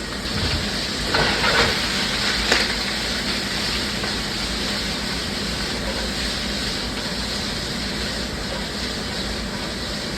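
Zucchini and shrimp sear in a hot pan with a steady, loud, unbroken hiss of sizzling oil, close up and almost unchanging throughout, with only a couple of faint bumps early on.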